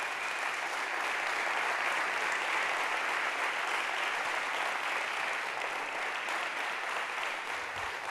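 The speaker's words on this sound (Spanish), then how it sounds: "Dale un fuerte pero fuerte aplauso a Jesús." Worshippers in a Sunday evening church service give Jesus a strong round of applause, a thick, sustained roar of clapping that stays level and continuous from start to finish.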